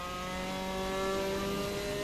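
Steady, droning engine whine from a Formula 4 single-seater in Assetto Corsa, held at a high, buzzing pitch that rises slightly, loud and continuous with no talking.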